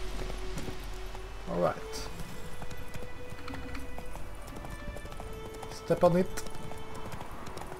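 Horse hooves clip-clop steadily through the Witcher 3 video game, with a brief whinny-like burst near the end, all running under ongoing speech.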